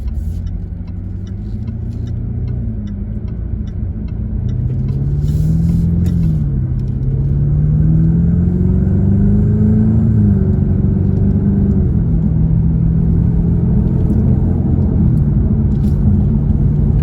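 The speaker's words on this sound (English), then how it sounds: "This is just a really nice car to drive." A 2021 Jaguar F-Type First Edition sports car driving on a twisty, bumpy road, a deep close engine rumble that rises and falls through gear changes, steady and loud with no talk.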